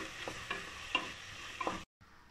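Onion and tomato sautéing in a pan for a homemade chicken biryani: a steady close sizzle with a few scraping stirs of a spatula, then a sudden cutoff to near silence before a faint hiss returns.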